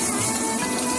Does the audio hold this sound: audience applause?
no